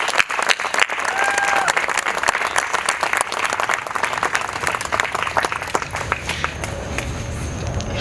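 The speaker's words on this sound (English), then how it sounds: "A round of applause." A crowd at a cocktail reception claps steadily as people come up to the stage, the applause gradually thinning toward the end while a few footsteps and murmurs mix in.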